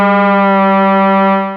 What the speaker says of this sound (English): Here's the basic FM oscillator